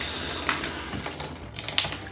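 Tap water runs and splashes into a sink while rinsing around a clogged drain, a steady close hiss of flowing water with small splashy surges and no talk.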